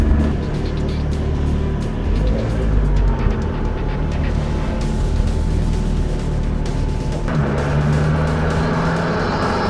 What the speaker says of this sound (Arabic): صوت التربو رائع جدا جدا جدا جدا.